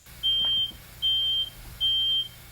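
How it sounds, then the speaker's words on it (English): A new smoke detector in a child's bedroom goes off with three loud, shrill beeps, each about half a second long and evenly spaced, against a quiet room. "a new smoke detector in his room goes off"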